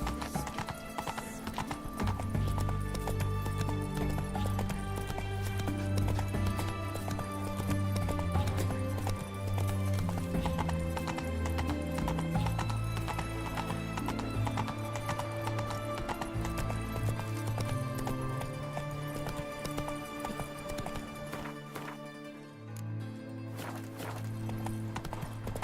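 Horse hooves clip-clop steadily in the Witcher 3 video game, a continuous quiet gait with a whinny mixed among other game sounds.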